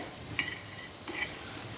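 Black peppercorns are dry-roasted in a dry pan, with two soft scraping stirs and a faint rattle. The sound is quiet and close, with no voices.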